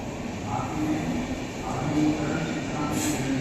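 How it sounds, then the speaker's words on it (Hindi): The Howrah–Ranchi Intercity Express rushes through Santragachi station at speed, a loud, continuous rumble of wheels and carriages with a brief hiss near the end. "अपनी हावड़ा रांची इंटरसिटी एक्सप्रेस, जो सांतरगाछी स्टेशन को अच्छी खासी रफ्तार में भाई स्किप कर रही है।"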